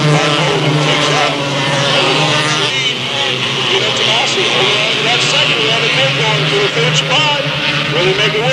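Race cars roaring around Delta Speedway just after the green flag, a dense continuous wash of engine noise with pitch sweeps as cars pass, heard under a steady flow of commentary.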